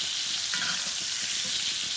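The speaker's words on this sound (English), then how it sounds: "I want to get it in my spoon, and I want to butter baste these steaks." Butter sizzles and spits steadily in a frying pan as steaks are spoon-basted with butter and rosemary, a continuous close crackling hiss with soft spoon-scraping and splashing sounds over it.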